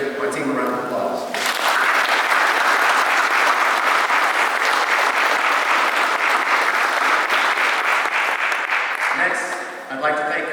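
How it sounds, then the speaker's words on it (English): An Army audience breaks into full, loud applause for a departing major's team at his outgoing speech, the clapping swelling in after a voice and carrying steadily for several seconds before a speaker resumes at the end. "can we give my team a round of applause?"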